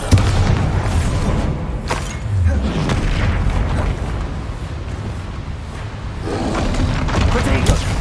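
Bombarda spell blasts in Hogwarts Legacy land as deep booming thuds, several heavy impacts spread across a loud continuous mix of combat noise, with a voice speaking among them.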